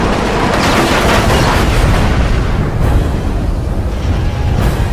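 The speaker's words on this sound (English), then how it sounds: "then another Sukhoi falls to Mirage cannon fire" Sustained 30mm cannon fire from a Mirage jet downing a Sukhoi Su-7 in a dogfight, a loud dense roar of rapid shots and blasts that continues without pause.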